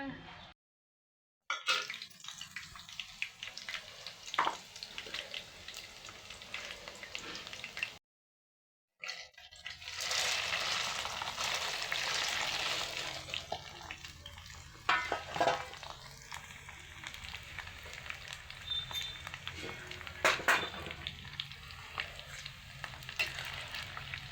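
Peanuts and roasted chickpeas fry in hot oil for chooda, giving a steady close sizzle with occasional stirring scrapes, broken by two brief silent gaps.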